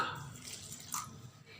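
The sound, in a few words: water being poured into lentil chutney ingredients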